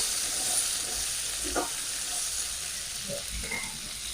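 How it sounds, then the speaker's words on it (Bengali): Sliced potatoes, washed and soaked in water, frying in oil in a pan for a Bengali fish-and-potato curry, giving a steady broadband sizzle with a few soft stirring knocks, close and continuous without talk. "এবার আলুগুলো আমি ভেজে নেব"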